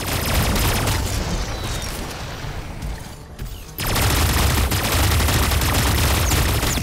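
Gunfire in a flying combat video game: dense, continuous bursts of shots and booming blasts, briefly thinning for a moment before the rapid firing returns at full loudness.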